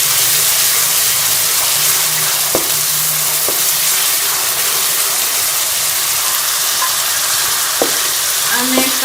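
Onions frying lightly in oil make a loud, steady hiss with a few scattered stirring knocks against the pan.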